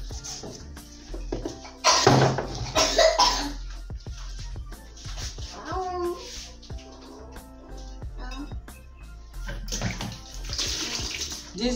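Hot water pours and splashes steadily during village cooking of a Ghanaian plantain meal with cocoyam leaves, with clinks, rustling and a brief cough or throat sound over the running water.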